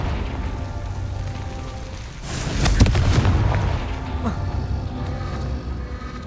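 A Confringo fire spell detonating in Hogwarts Legacy, one loud booming burst that swells mid-clip and rumbles away over a low background hum of game ambience.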